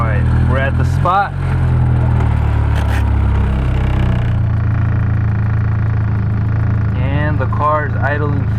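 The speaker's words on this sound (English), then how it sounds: "And the car is idling fine." A Nissan with a single-cam KA24E engine idles with a steady low rumble up close, after fuel pressure regulator work. A voice talks over it at the start and again near the end.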